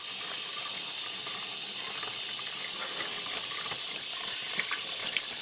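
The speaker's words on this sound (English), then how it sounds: "We'll just basically just hose out the filter, hose all the cleaner out." A garden hose sprays water steadily through an aftermarket air filter to rinse out the cleaner, giving a constant, close hiss of running water with small splashy flickers throughout.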